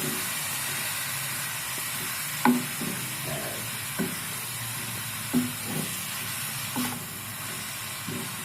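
Shredded cabbage stir-fries in a home kitchen pan. A steady, soft sizzle runs throughout, broken by a few sharp scraping stirs and clanks of the utensil against the pan.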